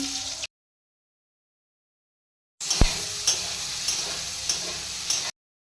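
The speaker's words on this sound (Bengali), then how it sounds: "সয়াবিনগুলো একটু হালকা করে ভেজে নিচ্ছি" Soybean chunks frying lightly in oil give a soft sizzle with stirring scrapes and a few sharp clinks of a spatula against the pan, heard briefly at the start, then for about three seconds.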